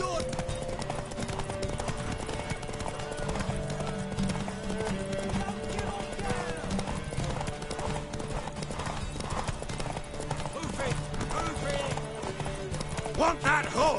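Horse hooves clip-clop in The Witcher 3 video game, a steady, continuous trotting rhythm under game music and voices, with a faint whinny mixed in.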